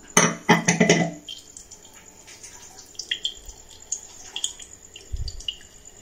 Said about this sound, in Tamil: தண்ணி ஊற்றி மிக்ஸி ஜாரையும் நம்ம கழுவி ஊற்றிடலாம்.